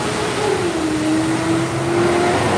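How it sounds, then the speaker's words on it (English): Trucks pass by outside, a loud continuous engine roar with a rising, sustained tone as a vehicle accelerates past, steady for the whole stretch with no talk. "I do live in an area, as you can hear, with a lot of trucks"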